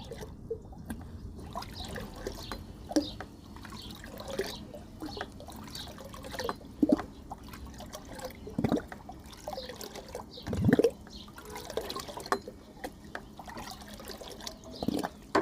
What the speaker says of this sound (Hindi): और इसके बाद ये पानी को हम फिर से अच्छा से मिक्स कर लेंगे।